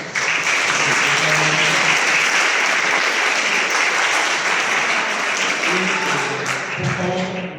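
Strong applause for Dr. Ana Cuadra during a university class session, with a crowd clapping steadily and loudly throughout, and faint voices and a few murmurs underneath toward the end.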